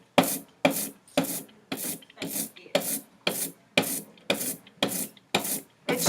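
An inked rubber brayer rolled across a printing surface makes a tacky, sticking rasp in about a dozen evenly spaced strokes, close and moderately loud, each pull peeling with a crisp hiss.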